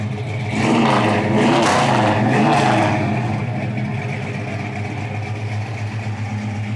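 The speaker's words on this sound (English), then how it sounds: "Sounds nice. Pretty cool little Satellite." A 1965 Plymouth Satellite's engine runs close by, rising in a couple of revving swells before settling into a steady, throaty idle, with no talk over it.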